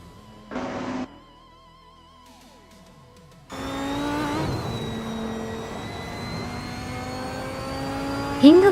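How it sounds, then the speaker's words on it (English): LMP 900 prototype race cars speeding around a track, engines droning and holding steady in pitch as they pass close and loud after a brief quieter lead-in. "The LMP 900 cars are tightly packed, showing the class's speed and agility on this track"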